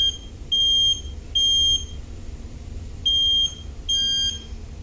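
A household smoke alarm sounds during a test with four separate high-pitched electronic beeps, each about half a second to a second long, loud and near over a quiet room.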